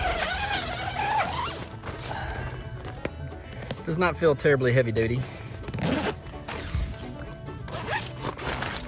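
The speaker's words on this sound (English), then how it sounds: "it's got a nice big zipper" A large zipper on a CampKing pop-up privacy shelter tent, used as festival camping gear, rasps open and shut in long, loud pulls while someone talks close by.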